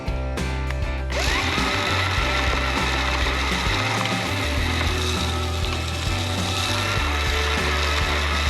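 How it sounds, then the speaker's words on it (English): Battery-operated Scotts Whiz handheld seeder spreading seed on a Wisconsin food plot, a steady close whir with a rapid ratcheting, clicking texture that continues without pause. "it's battery operated, and it throws down this seed pretty nice."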